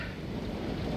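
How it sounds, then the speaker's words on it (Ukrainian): Brief stretch of steady rain in Cherkasy, Ukraine, with a low, continuous rumble of distant thunder underneath, fairly quiet throughout. "гримить, гримить"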